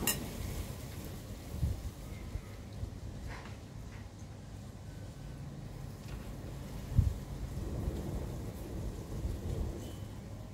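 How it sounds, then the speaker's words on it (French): Strong wind blows outdoors, a continuous low rumbling roar that buffets with occasional heavier gusts and thumps, steady for about ten seconds with no talking. "C'est horrible le vent aujourd'hui"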